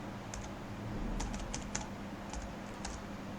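Quiet, close keyboard typing as C++ code is entered, with a light, irregular run of key clicks over soft background hiss.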